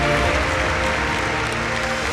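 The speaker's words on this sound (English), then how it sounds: "Huge round of applause for ITC." Crowd at a travel and tourism awards ceremony gives sustained applause, a steady, loud wash of many clapping hands filling the hall without pause.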